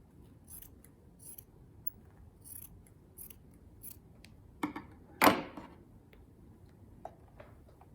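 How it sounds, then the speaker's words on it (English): Scissors snip through fabric to trim a seam allowance in several soft, close cuts. One sharper, louder snip comes near the middle, and faint handling of cloth and paper follows. "I'm gonna trim my seam allowance down to 1/2 inch."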